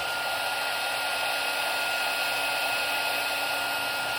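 A heat tool warms a coat of Distress embossing glaze with a constant close whooshing blower hum and a faint high whine, steady and alone without talk.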